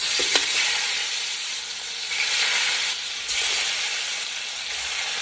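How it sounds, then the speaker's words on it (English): Oxtail browning in hot oil in a large Dutch oven, loud steady sizzling and hissing that swells in waves as pieces are moved, with a couple of faint metallic clicks early on. "Now the process of browning takes some time"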